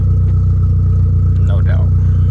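A big-turbo Dodge Neon SRT-4 engine runs steadily at its first startup, a loud, continuous low drone close by, with a brief voice partway through.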